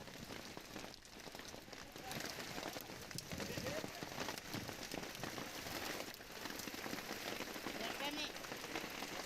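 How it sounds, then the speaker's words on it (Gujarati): Steady rain falls with strong wind during an unseasonal downpour around Jamnagar, making a dense, continuous wash of noise that holds at an even level throughout. "ભારે પવનની સાથે વરસાદથી લોકો પરેશાન."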